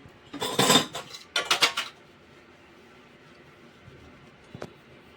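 A pan being washed in a home kitchen, with two loud bursts of metallic clattering and scraping near the start, then quiet with one sharp clink toward the end.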